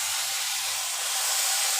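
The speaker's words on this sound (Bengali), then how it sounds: "পেঁয়াজ বাটা দিয়ে দিচ্ছি।" Steady loud sizzling hiss as onion paste hits potatoes already fried reddish in a hot pan, continuous and close, with no talk.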